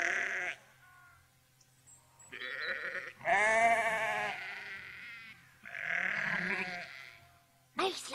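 Sheep bleat loudly in several long, wavering bursts in an animated wildlife drama, with voices talking in the gaps between the calls.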